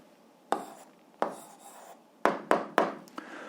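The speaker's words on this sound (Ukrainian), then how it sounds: "Ну що ж, записуємо відповідь, пишемо відповідь." Pen writing out the answer to an eighth-grade algebra exercise on a fraction's value, heard as several separate scratchy strokes in a quiet room, with no talking.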